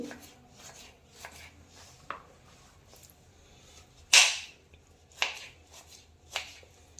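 Knife strokes cut a bottle gourd into pieces, with seeds left in: scattered sharp chops and slices, one loud crisp cut standing out among several softer, irregular strokes with quiet gaps between.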